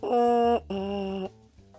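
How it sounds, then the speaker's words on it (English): A trombone mouthpiece buzzes in two sustained tones, the second slightly lower, then fades into a brief quieter buzz. Harsh and reedy, heard up close without talk. "you have to do what's called buzzing"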